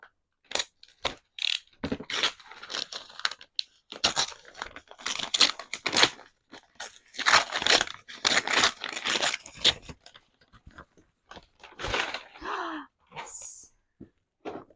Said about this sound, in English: Why is the paper so hard to tear through?